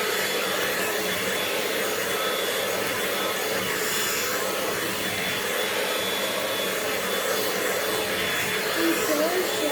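A hair dryer blowing hair dry, a steady loud whooshing roar of airflow and motor that runs unbroken close to the microphone, with no clear voices.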